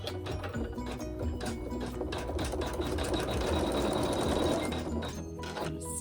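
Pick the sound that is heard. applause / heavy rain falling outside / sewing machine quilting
sewing machine quilting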